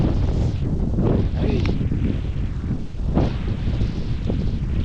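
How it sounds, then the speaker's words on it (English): Strong wind gusting outdoors on a roadside, roaring and buffeting loudly against the microphone throughout with low rumble, steady and close, with no clear speech. "The wind is blowing, guys."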